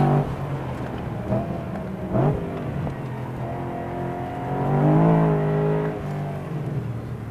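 A BMW M3 GTS laps a racing circuit, its engine a steady mid-distance drone that rises and falls with gear changes, swelling to a louder rev near the middle before easing back.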